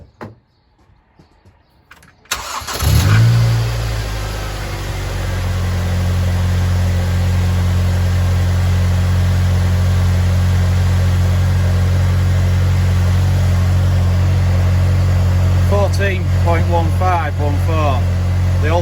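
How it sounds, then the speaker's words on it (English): A car engine cranks and catches after a short quiet moment, then settles into a steady low idle that runs on evenly, with a few faint higher chirps near the end. "Now I will go and start the car and show you the alternator reading."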